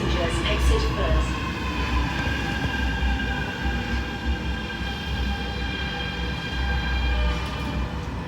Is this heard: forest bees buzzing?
no